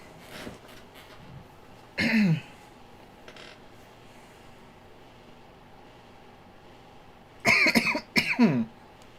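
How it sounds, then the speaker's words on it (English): Two bouts of coughing, a short burst near the start and a harsher double cough later, against a quiet low background. "gonna cough myself"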